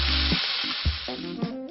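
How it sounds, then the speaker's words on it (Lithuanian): Chopped vegetables sizzle and crackle in a heated frying pan, a steady close hiss broken by a few brief stirring clatters. "Ir supjaustę likusias daržovės, berėme jas į kaitintą keptuvę. Šiek tiek pakepsime"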